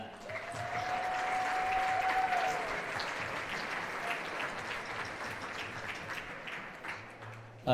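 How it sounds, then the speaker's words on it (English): Parents and families at a school holiday jazz band concert give steady applause, a dense wash of clapping heard from a distance, softly tapering toward the end. "So you deserve a round of applause for that."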